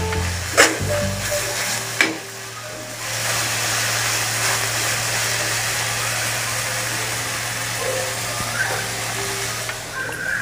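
Paneer bhurji with red chili powder is stirred in a pan, a continuous close sizzle and frying hiss with a steady low hum and a couple of sharp knocks near the start, no talk.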